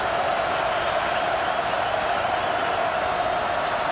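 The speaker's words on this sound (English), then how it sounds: "And the crowd knows it as they begin to make some noise" Steady roar of a college football stadium crowd during a 2007 Tennessee vs. Arkansas game, a dense, continuous wash of cheering voices holding at an even, loud level throughout with no break.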